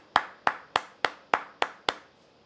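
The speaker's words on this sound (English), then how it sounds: "And also why I am clapping?" Two hands clap seven times at an even, steady pace, each clap sharp and close with a short ringing tail, and no talking in between.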